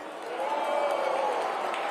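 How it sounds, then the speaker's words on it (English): A crowd at a political conference jeers, a dense swell of voices rising quickly and holding loud and steady throughout. "The jeering from the crowd."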